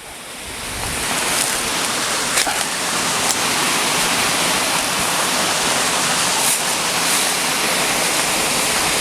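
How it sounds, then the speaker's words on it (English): Water pouring steadily over small falls in an urban green space, a dense, continuous rushing roar, close and loud, with nothing else audible. "you can hear the water, right?"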